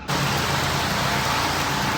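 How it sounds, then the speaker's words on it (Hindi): Steady rain falling in Dehradun during a monsoon-like downpour, a continuous even hiss of drops with a low background rumble, no voices. "बारिश हो रही है देहरादून में"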